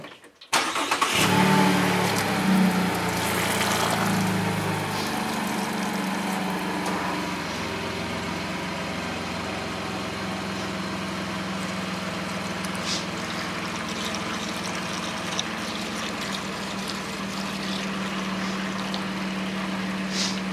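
A 2018 Chevrolet Colorado pickup's engine cranks and catches after a brief quiet moment, then settles into a steady, loud idle that drones on unchanged for about twenty seconds with no talking.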